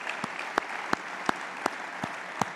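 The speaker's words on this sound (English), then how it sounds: "One last round of applause for Rich this evening." Sparse applause from an audience at a WWII anniversary evening talk, a few distinct hand claps standing out over a soft wash of clapping.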